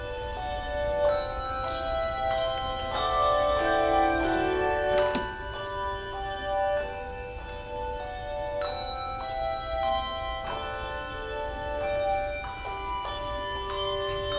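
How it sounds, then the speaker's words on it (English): Church bell choir playing the hymn Sweet Hour of Prayer on handbells during a weekend worship service, clear ringing tones and chords that sustain and overlap, moderately loud throughout. "We'll now have a special music from our bell choir"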